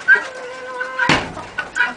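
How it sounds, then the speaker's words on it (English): A hen and Coturnix quail cluck in a backyard rabbit and quail enclosure, with short close calls and a few harmonic notes in quick succession and no talk. "Here's our golden and little Harley, the veiny hen, back there, still happily living with her quail."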